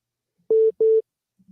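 Two loud, steady busy-signal tones sound one after another on a dropped phone call, each about a fifth of a second long, with a brief gap between them and near silence around them.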